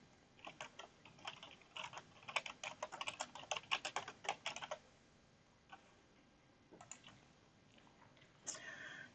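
Fingers type on a computer keyboard in quick clusters of light key clicks, then a few sparse taps after a pause; quiet and close, with no talking.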